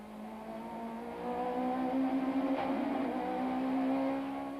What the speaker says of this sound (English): These cars are travelling at around 220 k's an hour